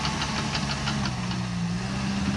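A Cat dozer with GRADE technology, its engine running steadily at close range while the blade moves, with a low droning hum and faint knocking throughout; no one talks.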